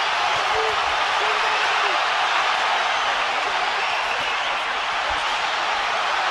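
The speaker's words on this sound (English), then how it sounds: "But the crowd are going crazy" A packed boxing arena roars continuously as fans cheer during the Canelo Alvarez versus Gennady Golovkin fight, a dense, loud, unbroken wash of crowd noise with a commentator's voice faintly underneath.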